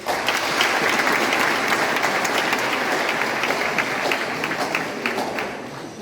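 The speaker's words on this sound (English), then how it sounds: "Let's give them a round of applause." Sustained applause from an audience at a high school tie ceremony, in honour of the principal, educators and guests, loud and dense across the full span with no talk.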